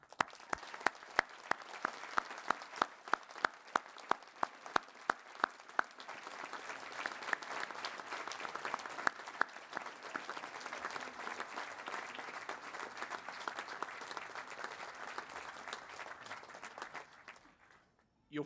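Audience applause at a university graduation ceremony in Chelmsford, a dense, sustained clapping from a large crowd that carries on steadily at moderate distance, with some sharper individual claps standing out early on.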